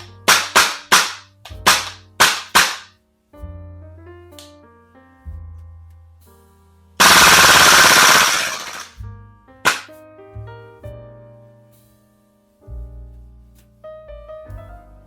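An APFG SIG MPX airsoft gas blowback replica fires loud, sharp, close shots, first as a quick string of single shots, then a sustained full-auto burst, with metallic clatter and ringing echoes between them.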